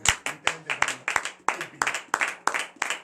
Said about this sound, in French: Que je vous demande d'applaudir très fort.